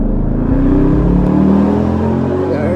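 A Hemi V8 engine in a Chrysler 300C rumbles loudly and steadily nearby, revving and droning with deep low-end power throughout.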